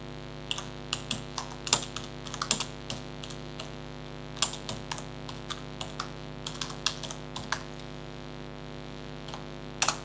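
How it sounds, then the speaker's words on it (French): Fingers tap text on a computer keyboard, quiet irregular clicks in bursts with short pauses, close by and alone with no voices. "Vous pouvez taper votre texte."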